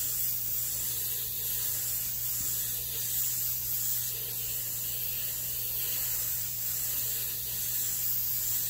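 Steady continuous hiss of an airbrush spraying paint on a Chevelle, close and even, with a low constant hum underneath and no pauses.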